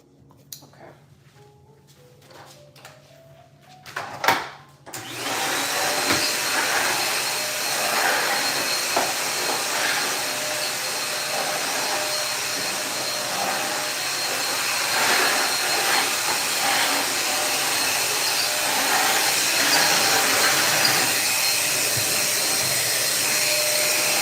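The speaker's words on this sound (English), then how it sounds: "Let me go ahead and vacuum this little walkway area." After a few seconds of quiet shuffling and a sharp knock, a vacuum cleaner switches on and roars steadily across a walkway floor, a close, loud hissing whine that continues to the end.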